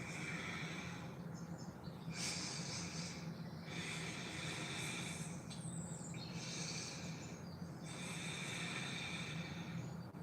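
Slow, deep breathing held through a yoga pose in a live session, several long rhythmic breaths repeating every couple of seconds over a steady background hum, close and soft.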